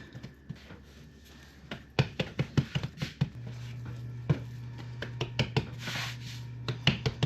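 Hands knead and fold pumpkin scone dough on a floured counter, with soft irregular pats, presses and thumps up close under a low steady hum.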